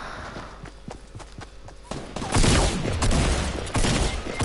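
Rapid gunfire from a Fortnite match, bursts of shots crackling loud and close over layered game effects, building to a dense barrage in the second half.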